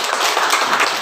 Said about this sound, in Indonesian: Saudara beri tepuk tangan.